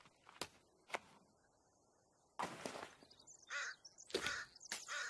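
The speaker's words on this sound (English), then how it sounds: "All these birds are making noises to scare me." Crows caw in The Forest video game: two sharp isolated calls, then a denser run of harsh caws and chirps over a quiet, steady outdoor ambience.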